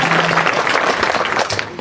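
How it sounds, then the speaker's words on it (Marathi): Applause from a kirtan audience during a devotional music gathering, a dense continuous wash of many hands clapping close and loud, with no talk. "तेवढं कंजूसपणा वाजवा ना टाळ्या"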